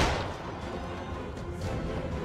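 Gunfire in The Dark Pictures: Little Hope, a dense, roaring blast of noise that stays loud and rumbling for a couple of seconds with no clear gaps.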